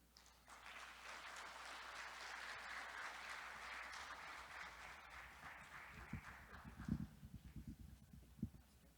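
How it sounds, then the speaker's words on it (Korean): Faint, distant applause rises to welcome a professor at the opening ceremony of the Korean Institute of Electrical Engineers' 53rd summer conference, holding for several seconds before thinning into scattered last claps and footsteps. "김재철 교수님을 큰 박수로 맞아주시기 바랍니다"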